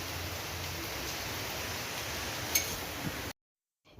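Rain falls steadily at a village home, a soft continuous hiss at low level with a couple of faint taps, and no voices over it.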